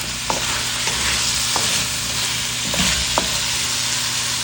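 Chicken sizzles steadily in a pan with tomato sauce and a chicken cube while a spoon stirs it, with a few soft scraping clacks over the continuous frying hiss. No one speaks.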